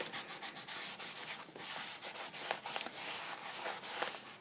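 Paper is rubbed down by hand in an altered book, a quiet series of quick dry scuffing strokes in an uneven rhythm, close up and alone.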